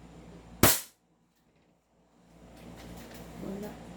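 A JWC Combat Master 1911-style airsoft pistol, fine-tuned with a trigger job, fires one sharp, loud, close crack, followed by near silence and then a low background hum.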